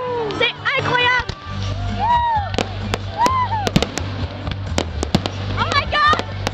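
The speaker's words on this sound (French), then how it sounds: "Regardez ce feu d'artifice," Fireworks burst repeatedly at a Saint-Jean-Baptiste festival, sharp close cracks and pops mixed with whistling rising and falling tones, over a low rumble and crowd noise.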